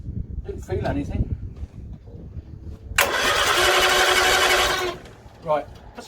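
An old Bedford CA panel van engine cranks and tries to start in one harsh, loud two-second burst, with scattered voices and rustling before it and a brief noise afterward.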